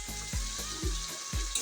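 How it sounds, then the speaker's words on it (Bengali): Pointed gourd spice paste fries in oil as it is stirred, a continuous close sizzle punctuated by four regular low scraping thumps from the stirring strokes. "আরও 2 মিনিটের মতো আমি কষাই নেব।"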